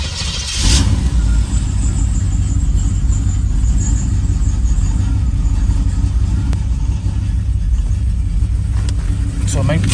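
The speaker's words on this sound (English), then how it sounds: "Cold start. Gonna give it a little gas. Pump it 3 times." A 1983 Pontiac Firebird Trans Am running on racing gas catches on a cold start and settles into a loud, steady low rumble with mild revving throughout, with people talking over it.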